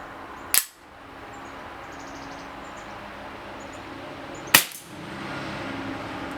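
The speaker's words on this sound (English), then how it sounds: "Now we're going to shoot 8 rounds through the chronograph." A Sig Sauer P226 X-Five Open CO2 BB pistol fires two sharp, isolated shots about four seconds apart through a chronograph, each a crisp snap against quiet background hiss.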